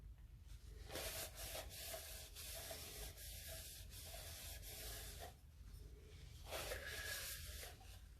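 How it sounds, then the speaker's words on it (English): Steady scrubbing against the inside of a tumbler to rub off paint marks and tape residue, a continuous close hissing friction with brief pauses and slight shifts in intensity. "This is how I remove any paint or marks from my pool noodle or tape or any of that from the inside."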